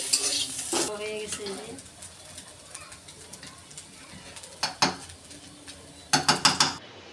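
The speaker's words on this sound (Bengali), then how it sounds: "ভর্তা ভাজা ভাজা হয়ে গেছে" Mashed bhorta is fried and stirred in a pan, a steady sizzle under repeated scraping strokes of a spatula, with sharp metallic clatters in bursts toward the end.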